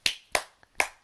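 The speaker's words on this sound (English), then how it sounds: "I'm snapping." Three crisp finger snaps ring out close and alone, evenly spaced, with a faint tap between the second and third.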